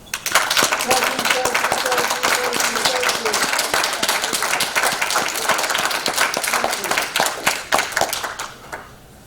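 Crowd at a police and fire awards ceremony applauding first responders, dense sustained clapping filling the room from start to finish, fading at the end.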